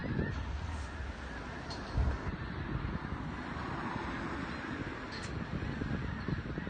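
Snow geese honk while flying through morning fog, distant and faint over steady wind noise on the microphone, with a few scattered calls standing out briefly.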